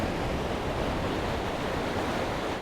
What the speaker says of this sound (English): So, first impressions of the beach here, Amelia?